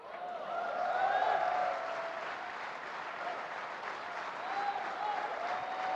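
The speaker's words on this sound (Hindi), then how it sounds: "जिसकी ताली जितनी तेज होंगी उतना ज्यादा समझ रहा है।" Steady audience applause fills an indoor event at Delhi's Thyagaraj Stadium, a dense, sustained clapping wash that swells slightly early on and continues evenly throughout.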